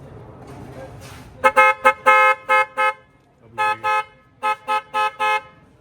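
A loud aftermarket electronic horn on a Benelli TRK 502 X motorcycle honks in a series of short, bright blasts, some in quick clusters, close up after a quiet stretch.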